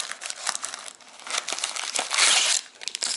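Cardboard and plastic wrap on a 2020 Topps Update Series baseball card retail box crinkle and tear open from the top, close and continuous, with a louder ripping burst partway through.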